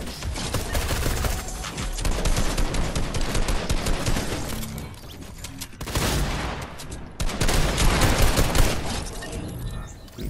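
Gunfire in the video game Fortnite: loud, dense bursts of rapid automatic fire with brief pauses between volleys, close and sustained throughout.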